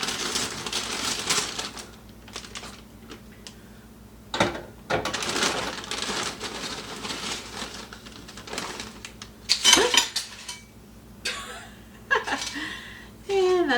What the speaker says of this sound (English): I'm just gonna cut these chips.